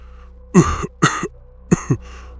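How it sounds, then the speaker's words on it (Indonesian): A man hacks out a harsh, dry coughing fit in pain, three sharp rasping bursts with short gaps between them, close and alone. "batuk aneh itu datang, kali ini lebih parah, seolah paru-parunya ditarik keluar"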